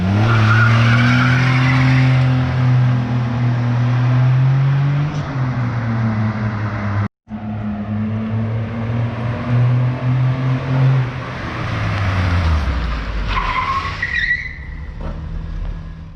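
Suzuki Khyber and Suzuki Swift cars under acceleration and brake testing, a loud sustained engine drone that rises and falls with a brief cut, ending in a high tire squeal as the car skids to a stop.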